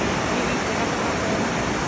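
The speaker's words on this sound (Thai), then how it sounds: "ที่จะเป็นน้ำตกน้ำโตนนั่นเอง" Nam Ton waterfall at Huai Khaen rapids, a continuous, close, loud rush of falling water with no break or change.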